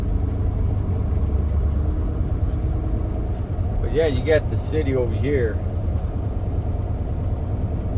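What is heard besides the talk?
idling traffic jam heard from a truck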